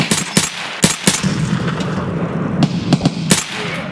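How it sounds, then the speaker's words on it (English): Sharp gunshots ring out in Escape From Tarkov, single shots and short bursts fired in an irregular rhythm, loud and close, with a low rumble between them. "Bob, I'm gonna shoot."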